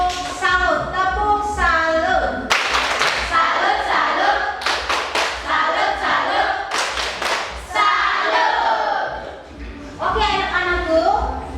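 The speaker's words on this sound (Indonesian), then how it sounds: "Mari kita beri aplaus dulu untuk ketiga kelompok dengan tepuk salut" A group claps the rhythmic 'tepuk salut' cheer, sharp bursts of hand claps in patterned beats with chanted voices between them, loud and close, with children's voices mixed in.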